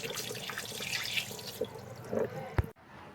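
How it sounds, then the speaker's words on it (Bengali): Tap water runs steadily as hands are washed under it in a home kitchen, a close splashing stream with small drips and a brief knock near the end before it shuts off. "আমি হাতটা ধুয়ে নিই"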